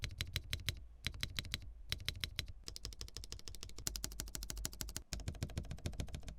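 Mechanical keyboard fitted with a POM plate, typed on in quick bursts of crisp, close clicking keystrokes, loud and continuous with short pauses between runs.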